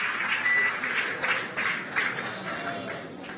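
A crowd cheers and applauds for the SpaceX Crew-4 Dragon Freedom splashdown, a steady wash of distant cheering and clapping that swells in waves without letting up.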